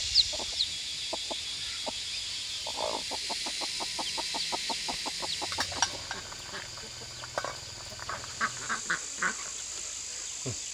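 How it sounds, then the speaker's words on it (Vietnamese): Hens cluck and peep close by alongside newly hatched chicks in a tropical rainforest setting, with rapid bursts of clucking and thin high chirps over a faint background hum. "Gà nở được mấy trứng rồi."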